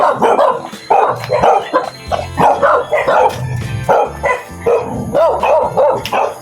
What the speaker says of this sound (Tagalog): Ayan mga kabisnes, yung aso na yan.